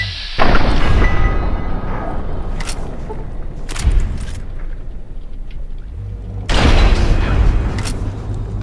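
Turrets firing in Fallout 3: loud, close booming shots and thuds over a continuous rumbling din, with heavy impacts at the start and again near the end.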